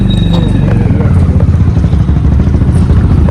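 A motorcycle engine rumbles loudly and close by, steady throughout, with some rattling clatter.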